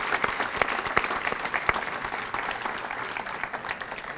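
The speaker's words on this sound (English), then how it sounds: "Let's get one more round of applause for our inductees." A hall of fame ceremony audience gives inductees a sustained round of applause, dense and steady throughout with crisp claps rising out of the wash, fairly loud in a large room.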